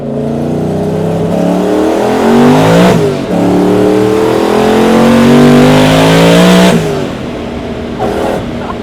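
Twin-turbo Coyote V8 in a stick-shift Ford Maverick accelerates hard, engine pitch sweeping upward and dropping sharply at each quick gear change, with three clear shifts, loud and close.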